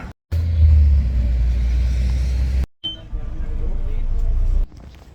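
A city bus rumbles with a deep, loud engine drone for a couple of seconds, then cuts out briefly and returns as a lighter road rumble that fades at the end.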